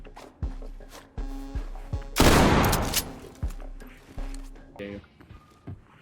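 Pistol shots in the tactical shooter Ready or Not, several sharp single cracks spaced about a second apart with one longer loud burst in the middle, over quiet room tone.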